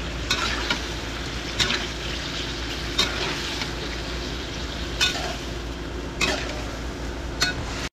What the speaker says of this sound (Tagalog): haluin mo naman. Halo-halo mo na mga kabili.